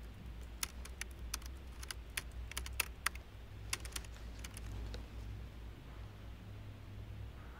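Rapid keystrokes on a computer keyboard as a search is typed, a quick uneven run of close, crisp clicks over a low hum, then the tapping stops.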